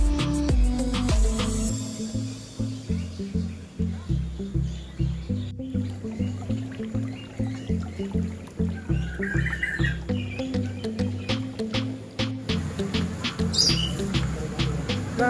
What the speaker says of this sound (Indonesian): Aneka jenis burung dengan segala tingkah laku burung diantara pepohonan